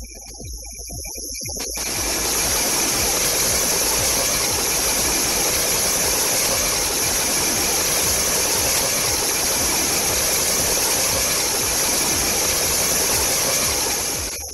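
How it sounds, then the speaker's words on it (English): A steady, dense hiss and whine of a machine bearing heard through an ultrasonic lubrication detector, with a continuous high-pitched tone and no talking. "The fact that the noise level reduces is the first indication that the lubricant is effectively reaching the bearing"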